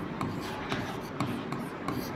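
Pen or pencil scratching on paper during a Class 10 maths lesson, with faint regular strokes repeating about every half second over a steady low room hum; no talking.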